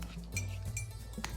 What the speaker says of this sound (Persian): هم بزنید تا 1 دست بشه